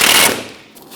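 A power tool rattles in a rapid, loud burst, driving the backing plate nuts onto a 2002-2006 Honda CR-V rear wheel hub, then trails off into quieter shop noise.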